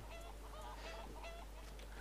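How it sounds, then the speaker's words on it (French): Chickens clucking in the video game Défiance, a busy flock of overlapping clucks and squawks close by over a constant low hum, with no talk. "Oh les poules elles font un bordel."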